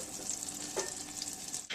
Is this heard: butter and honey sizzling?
yes